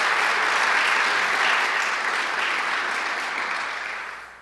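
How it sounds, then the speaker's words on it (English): An audience applauds the governor at a higher-education event, a dense, even wash of clapping that holds steady and then gradually tapers off toward the end, with no voices over it. "Can we have another round of applause for the governor?"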